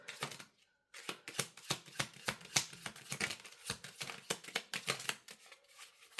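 Tarot cards being shuffled and pulled from the deck, a rapid run of crisp, close papery riffles and flicks with a brief pause near the start, no voices.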